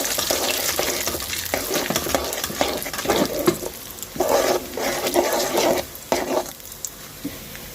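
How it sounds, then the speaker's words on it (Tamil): Cashews and raisins frying in hot ghee in a pan, a steady close sizzle with occasional stirring scrapes over nearly eight seconds. "ஹீட் ஆகிட்டு முந்திரி திராட்சையை நம்ம போட்டு ஃப்ரை பண்ணி விடலாம்."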